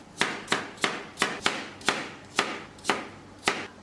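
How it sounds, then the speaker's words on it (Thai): A knife chops a peeled apple on a cutting board, with about ten sharp, evenly spaced knocks, close and clear with no talk. "ปอกแอปเปิลเสร็จแล้วครับผมจะหั่นแอปเปิลครับ"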